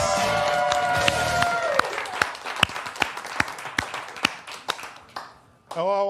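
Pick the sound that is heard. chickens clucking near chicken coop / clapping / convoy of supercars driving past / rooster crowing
clapping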